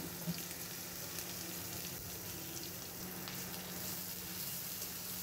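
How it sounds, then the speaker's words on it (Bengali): Onion and green chili fry in mustard oil in a wok, making a quiet, even sizzle and hiss that runs unbroken from start to end, with no speech. "কড়াইতে পেঁয়াজ কাঁচামরিচ দিয়ে দিয়েছি, দিয়ে দেব সরিষার তেল"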